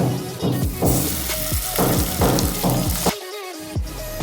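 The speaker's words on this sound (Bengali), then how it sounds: "বাকি মাছগুলোকেও ঠিক একই পদ্ধতিতে ভেজে নেব।" Pieces of katla fish fry in hot oil with a steady, loud sizzle, broken by repeated clinks and scrapes as the fish are turned and moved, close up and without speech.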